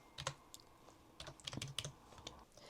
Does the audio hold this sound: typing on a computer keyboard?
yes